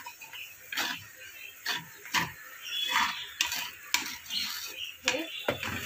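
Kanda poha with fresh coriander stirred in a pan, producing intermittent scraping and clinking of a spoon against the metal, a few distinct strokes with brief pauses and some faint background talk.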